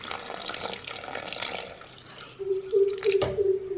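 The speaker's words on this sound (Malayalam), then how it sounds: "അതിലേക്ക് നമ്മളിപ്പോൾ ഒരു 1/2 ലിറ്റർ പാലാണ് ഒഴിക്കാൻ പോകുന്നത്." Milk poured steadily into a blender jar of jackfruit seed shake, a close liquid stream rising in pitch as the jar fills, with faint kitchen clatter before it.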